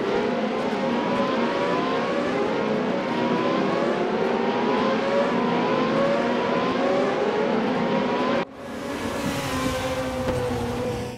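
A Caterham racing car's engine in the RaceRoom racing game, driven at Karlskoga Motorstadion, drones loud and continuous with rising and falling revs, then cuts abruptly into a shift before pulling again.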